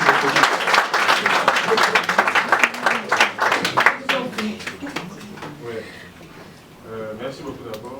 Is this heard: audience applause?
yes